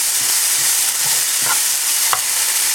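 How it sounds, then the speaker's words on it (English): Onions and curry leaves fry steadily in a pan with a dense, continuous sizzle, broken by a few soft stirring scrapes and light clinks, close and fairly loud with no talking. "Just going to wait for the onions to slightly brown."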